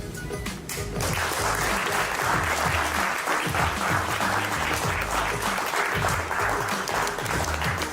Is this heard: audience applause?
yes